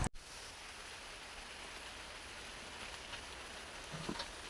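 Rain falling steadily outdoors on a garden of plants, a soft continuous hiss of moderate loudness with a few faint patters near the end and no talking.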